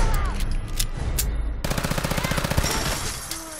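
M1911 pistol firing in full-auto in Fallout 4, a rapid, evenly spaced burst of sharp shots after a brief reload clatter, loud and close with no talk over it.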